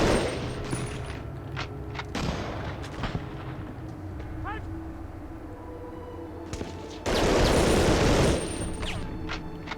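Gunfire and explosive bursts from the World War II shooter Medal of Honor: Underground, with scattered sharp shots, a dense loud burst near the end, and a voice talking over parts of it.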